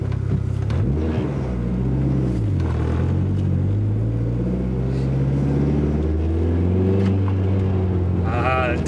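A Dodge SRT-4 tuned to about 500 hp drives around the block on a cold day, its engine rumbling steadily close up, with a faint rising whine from the turbo spooling near the end.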